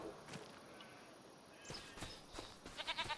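Goats in the video game Farming Simulator 25 bleating in short wavering calls, bunched toward the end over a faint outdoor background.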